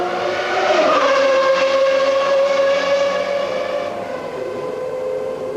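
A McLaren race car on a test run at a track after overnight setup adjustments, its engine giving a loud, sustained high-pitched whine that holds steady and then eases slightly as it pulls away.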